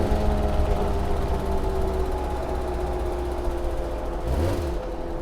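A Porsche 928 engine accelerates with a steady mid-pitched drone, then dips and rises again through a gear shift near the end.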